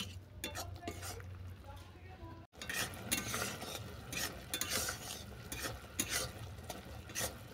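A spoon stirs persimmon boondi boiling in sugar syrup in a pan, with soft scraping and clinking over a bubbling simmer, close and fairly quiet, broken by one brief gap.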